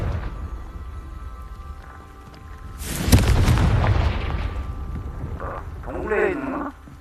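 A Confringo fire spell in Hogwarts Legacy bursts loudly at mid-clip, a broad booming blast that rumbles and fades over a few seconds, followed by a short voiced sound near the end.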